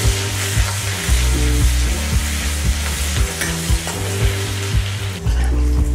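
Ginger garlic paste and green chillies fry over low heat in a pan for shahi paneer, giving a steady close sizzle broken by a rhythmic clatter of spoon strokes against the pan, with no talking.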